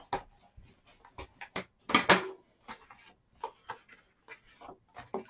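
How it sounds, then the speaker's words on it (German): Paper is creased and rubbed along the folded edges of a house-shaped gift box, giving close, intermittent scrapes and soft rustles with one louder crinkling rub in the middle. "Wenn man möchte, kann man jetzt noch mal hier die Kanten nachfalzen."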